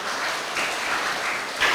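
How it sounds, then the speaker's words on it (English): An audience at a school assembly claps in a steady, dense burst of applause for a class of students. "We shall begin a big round of applause to them."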